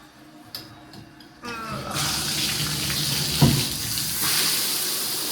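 A bathroom shower head turns on and runs, a sudden steady hiss of spraying water that starts after a few clicks and keeps going loud and close.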